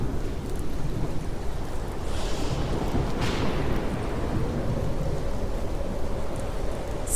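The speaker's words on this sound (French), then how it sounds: "Le tonnerre se met à gronder tout à coup." Thunder rumbles under steady heavy rain in a storm sound effect for a children's story set aboard a boat, a loud continuous wash of rain with a deep rolling rumble swelling midway.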